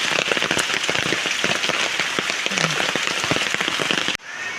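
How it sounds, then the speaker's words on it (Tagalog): Heavy rain pours down in a dense, steady hiss with scattered drops pattering on a surface, loud and close, then abruptly cuts quieter at the end. "May nervyos na po sa pagbuhos-buhos po ng ulan."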